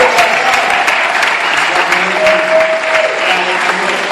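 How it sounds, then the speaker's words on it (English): Warm, thunderous applause from an audience at a comedy event fills the space, sustained and loud, with a few cheers and whoops rising above the clapping. "So I wanted you just to put together a warm, thunderous applause"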